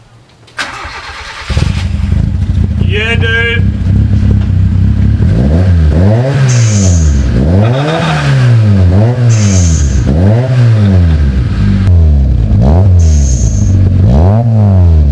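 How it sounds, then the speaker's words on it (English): A Honda Civic engine with a new Tirana exhaust cranks and catches on first startup, then idles with a deep exhaust rumble as it is revved repeatedly in rising and falling swells; a brief voice speaks early on. "All right, Tirana exhaust on the Civic. Let's hear it. First startup."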